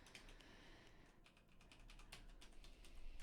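Fingers type on a Logitech G610 Orion mechanical keyboard fitted with Cherry MX Brown switches. The keystrokes are quiet, steady and fairly rapid, with a soft background hum and no talking.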